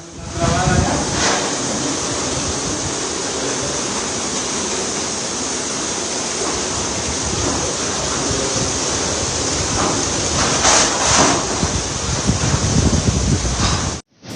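Category 3 hurricane winds and surf pounding the coast of Oaxaca, Mexico, as a continuous loud roar of wind and crashing water with steady hiss throughout and no break until the end.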